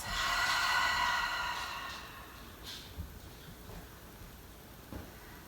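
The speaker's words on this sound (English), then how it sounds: "we'll close this evening's class with a final cleansing breath." A long, deep cleansing exhale at the close of a gentle restorative yoga class, a soft airy breath that fades gradually into quiet room tone, faint and alone without talking.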